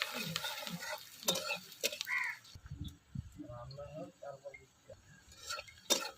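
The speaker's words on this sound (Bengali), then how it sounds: "দেখো এখন পেঁয়াজটা ভাজা হয়ে গেছে" Onions frying in a pan with crushed garlic and ripe chili paste nearby, giving a close, steady sizzle broken by stirring scrapes and a few clinks of utensils against cookware.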